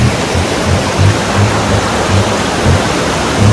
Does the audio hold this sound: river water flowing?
yes